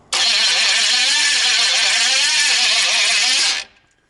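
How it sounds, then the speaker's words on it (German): A GMC Vandura van engine cranks and starts, a loud, continuous churning roar close by that holds steady for about three and a half seconds before cutting off abruptly. "Der orgelt gut, der Motor."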